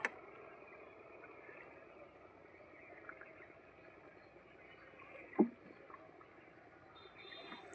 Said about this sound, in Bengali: এই যে আমার নৌকা